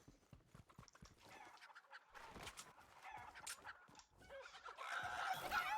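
Chickens cluck and squawk in the Fortnite video game, a faint, busy cluster of overlapping bird calls and scratchy clatter that grows a little louder toward the end.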